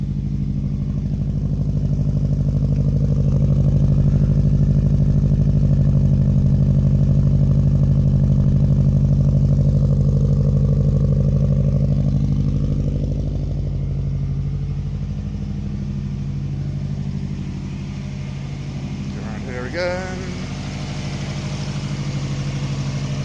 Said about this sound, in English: It's a completely smooth running engine